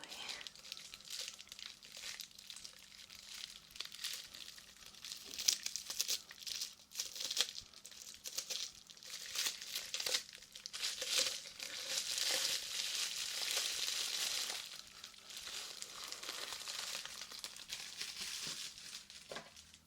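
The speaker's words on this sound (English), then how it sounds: "You would think bubble wrap makes a nice sound, but it's very loud actually" Close, continuous crinkling of bubble wrap being handled while unpacking a loot crate, a dense crackling rustle with irregular louder crunches under a steady low hum.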